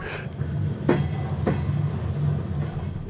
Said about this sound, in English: I'm on a very special sort of train, really, because this is the way to get to Kyiv.